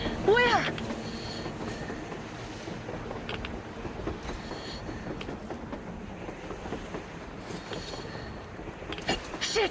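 A train rolls across the surface in the Metro Exodus video game, a broad rumbling clatter that continues steadily throughout, with game music and sound effects mixed in.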